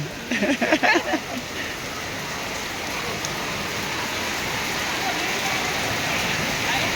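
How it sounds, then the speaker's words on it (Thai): Rain pours steadily at a busy village market in Ban Ton, Thailand, on the eve of the Boon Khao Sak festival, a dense even hiss throughout, with brief voices near the start. "ฝนตก"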